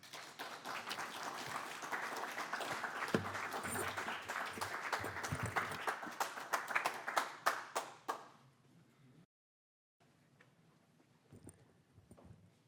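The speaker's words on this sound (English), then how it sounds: "One more round of applause for James and for Michael Koch." An audience applauds at a public library event after a reading, a steady patter of many hands clapping at moderate distance that thins into a few scattered claps before fading out.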